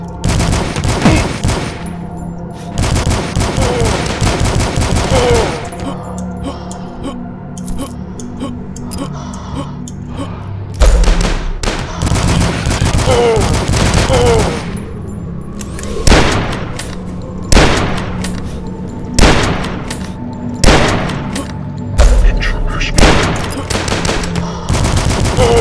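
Rapid bursts of gunfire from the shooter game Dusk, loud fusillades of repeated shots with heavy booming blasts in between, continuous across the stretch and no talking over it.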